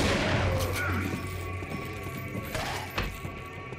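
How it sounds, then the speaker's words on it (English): Enemy gunfire in Resident Evil 4 Ultimate HD's Separate Ways chapter cracks out in a few sharp shots over a low rumbling game backdrop, spaced irregularly across a few seconds. "They just sit there and take pot shots at you"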